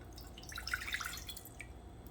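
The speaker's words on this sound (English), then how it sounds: "First we have to put the water." Water being poured for a Spanish coconut cake, a soft, close trickle and splash of liquid into a pan or bowl, brief and steady with no talking.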